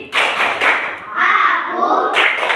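Primary school class in grade III-B clapping hands together in a rhythmic clap routine, loud close claps in bursts with children's voices chanting along.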